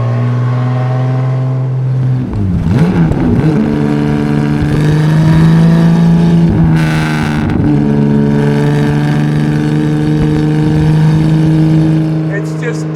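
A classic car engine revs hard at full throttle, a loud sustained roar that climbs and falls in pitch with sharp throttle blips, close and continuous throughout.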